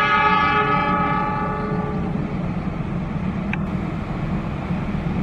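A parcel train's horn blares loudly for about two seconds as the heavy train rumbles past close by, the rolling rail noise continuing steadily afterward.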